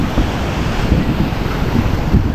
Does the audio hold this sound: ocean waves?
yes